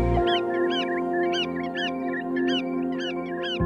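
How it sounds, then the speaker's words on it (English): Brent geese on a tidal roost give repeated short, nasal honking calls in a fairly quick, irregular series, close and clear over a low steady background. "These Brent geese have flown all the way from Siberia"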